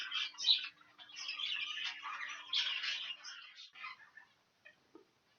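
Caged breeding birds in a bird shed chirp and twitter in a busy, high-pitched chorus, fairly faint and continuous before tapering to a few scattered calls.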